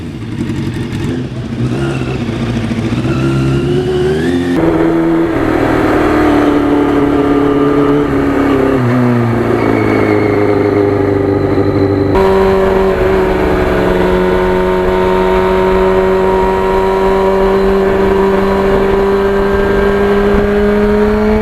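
A 1991 Yamaha FZR 1000 motorcycle engine revs hard while riding, rising and falling through the gears in a loud, sustained drone with wind rush, close and continuous throughout.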